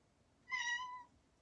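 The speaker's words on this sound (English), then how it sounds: "Sorry for the cat." A single short cat meow comes from a quiet indoor room. It is faint and clear, lasts about half a second and has nothing else around it.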